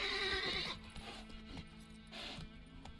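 Geralt's horse Roach in The Witcher 3 gives a short whinny at the start, followed by faint hoof clops and quiet game ambience.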